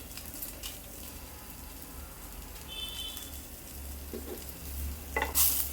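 A kaju matar paneer curry base sizzles in hot oil as dried red chillies go in, with a low steady frying hiss and a few faint clinks and stirs.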